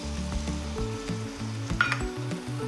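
Gyoza sizzle loudly in a hot frying pan as water goes in, a steady crackling hiss running under background music with tonal bass notes.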